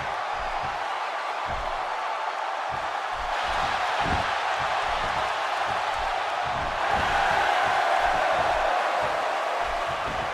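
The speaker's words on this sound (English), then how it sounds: "The crowd clearly divided for this." Steady roar of an arena crowd in the WWE 2K16 wrestling video game, a dense continuous murmur that swells slightly at points, with no talk over it.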